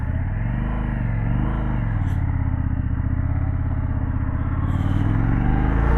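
An Indian Scout RT motorcycle fitted with a Chieftain slip-on exhaust pulls away, its deep, close engine rumble steady and loud for the whole stretch.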